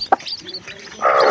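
Ten newly hatched chicks from a new mother hen, a few short high chirps and peeps, one sharp peep early and a busier burst of cheeping at the end, close and alone.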